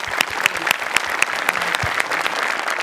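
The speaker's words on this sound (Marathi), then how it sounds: "जोरदार टाळ्या." Audience applause at a stage comedy show, a steady burst of clapping with sharp individual claps standing out over the crowd, loud and sustained throughout.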